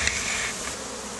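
Honeybees being moved to a new hive buzz densely and close, a steady high drone filling the brief moment without voices.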